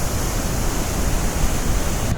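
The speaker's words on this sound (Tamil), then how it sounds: "தண்ணி எப்படி போயிட்டுருக்கு பாருங்கள்." Water rushes steadily past outdoors, a loud continuous broadband roar with no voices, heard from close by during a motorbike trip.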